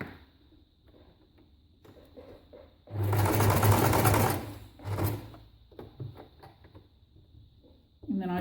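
A sewing machine stitches through paper for vintage-style junk journal ephemera, a loud whirring burst running about two seconds, then a shorter run after a brief pause, with quiet handling sounds around it.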